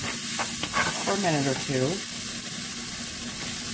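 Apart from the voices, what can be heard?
stirring flour into pan for mushroom gravy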